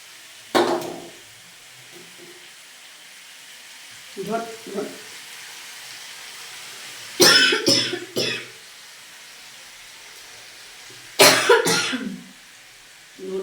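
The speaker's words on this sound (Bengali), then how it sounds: "মশলার ঝাঁঝটা আসছে, ওই জন্য কাশি হচ্ছে" Three separate bursts of coughing and throat clearing from a cook irritated by sharp spice fumes, set against faint frying in a home kitchen where capsicum and vegetables are being cooked, with quiet gaps between.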